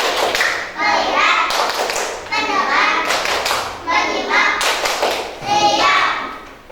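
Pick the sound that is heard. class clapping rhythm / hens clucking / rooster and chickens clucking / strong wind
class clapping rhythm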